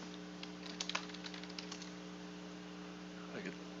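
Light, scattered keystrokes on a computer keyboard tap out a quick burst and then fall quiet, faint beneath a steady electrical hum.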